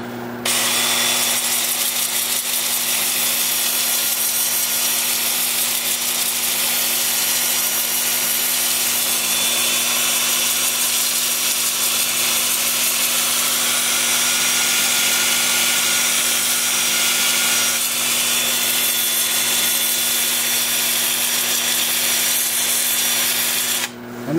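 A 2-inch sanding disc works a wooden elephant foot bowl on a wood lathe, a steady loud whirring hum with continuous abrasive rasp that runs unbroken for the full length.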